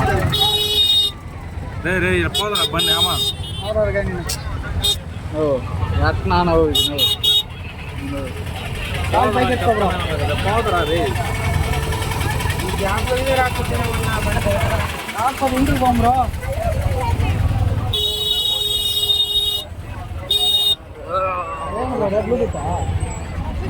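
Busy road traffic with idling and revving engines fills the scene, broken by repeated car horn blasts at the start and again near the end, while people talk and babble in the crowd.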